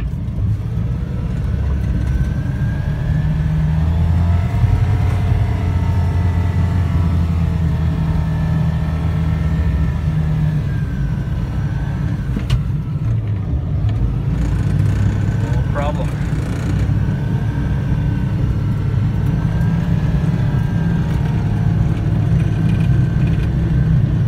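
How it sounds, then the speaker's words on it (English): Suzuki Carry mini-truck fitted with tracks, driving through deep snow, its engine droning steadily and loud throughout with rumbling track noise, while a person talks over it. "So we're cruising around here with the mini truck with tracks."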